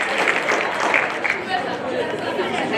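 A school quiz match audience gives a dense, steady patter of clapping that fills the whole stretch, with voices murmuring underneath.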